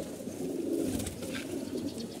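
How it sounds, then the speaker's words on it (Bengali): A Babra pigeon coos softly nearby, a low rolling, throaty murmur that continues steadily and faintly with no talking. "এটা বাবরা কবুতর"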